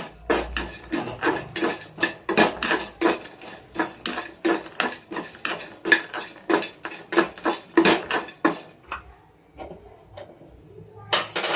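Nutmeg and whole spices dry-roast in a pan over a low flame for tea masala, heard as a rapid series of dry clicks and rattles as a spoon stirs them against the metal, close, rhythmic, easing off near the end.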